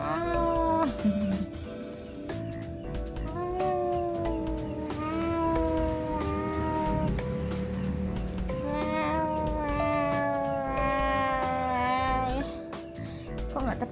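A cat meows repeatedly in long, drawn-out calls that rise and fall, close and clear, running almost continuously over a steady background hum.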